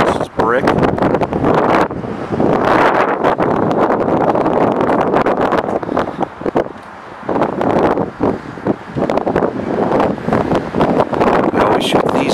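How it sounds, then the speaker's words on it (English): Strong gusts buffet the microphone in loud, rumbling bursts that rise and fall, with a person talking in between. "We always shoot these videos on windy days."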